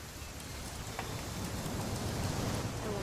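Steady rain in the video game What Remains of Edith Finch, an even, continuous wash of falling drops with no voices over it.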